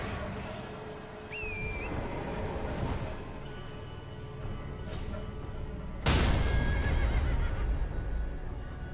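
Horse in the video game Elden Ring giving a couple of shrill whinnies, followed by hoof clip-clops and a sudden heavy boom, with game ambience and a voice speaking underneath.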